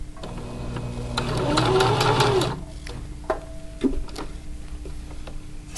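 A sewing machine stitching elastic into the waistband of boxers or pajama pants, a close mechanical whirr that builds for about two seconds and then stops, followed by a few quieter clicks and handling sounds.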